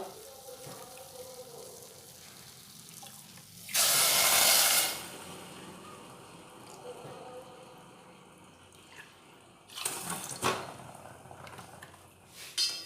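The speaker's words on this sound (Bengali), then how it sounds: "এবার ওতে দিয়ে দেব দেড় কাপ জল" One and a half cups of water poured into sugar in a pan: a loud, close splashing rush lasting about a second, followed later by a second shorter burst of pouring against a quiet kitchen background.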